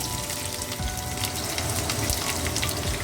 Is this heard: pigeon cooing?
no